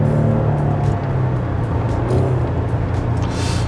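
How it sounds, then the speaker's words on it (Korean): A Chevrolet Colorado pickup's V6 gasoline engine rumbles steadily from inside the cabin, a low continuous drone under road noise with no one talking. "엔진 회전수가 자연스럽게 오르면서 들리는 이런 사운드도 꽤 매력적이고요"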